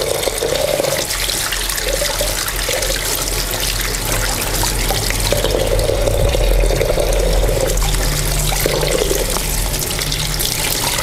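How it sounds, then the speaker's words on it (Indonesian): Water runs and splashes steadily while lime-soaked fruit is rinsed for halua candy. The sound is close and continuous, with intermittent brighter gushes, and no voices are heard. "Kita cuci bersih biar rasa air kapurnya itu biar hilang"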